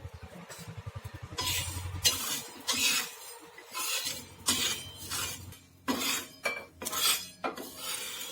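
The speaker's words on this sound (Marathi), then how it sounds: "थोडेसे मी मेथी दाणे घेतलेले आहेत, ते भाजून घेणार आहे" Fenugreek seeds dry-roasted in a pan for a Maharashtrian yesur masala, with scraping and stirring clatter of a utensil against the pan in irregular close bursts and a faint sizzling hiss underneath.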